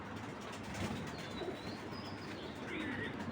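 A racing pigeon coos softly in a loft, faint low murmurs against quiet background noise, with no one speaking.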